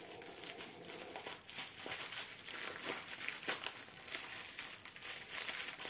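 Close-up plastic packet crinkling while opening a diamond painting kit, a continuous run of crackly rustles and crunches at a moderate level, with no speech.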